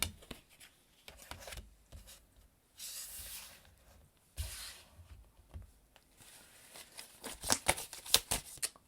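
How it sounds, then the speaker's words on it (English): Tarot cards are shuffled and pulled by hand, giving bursts of papery riffling and sliding with soft taps and pauses between, close and fairly quiet. "bear with me here as I shuffle and pull the cards."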